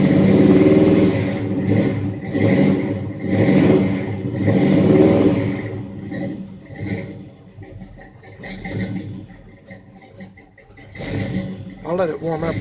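A cold 1984 Chevy truck engine cranks and catches, then revs in several loud rising and falling surges before settling, heard close up.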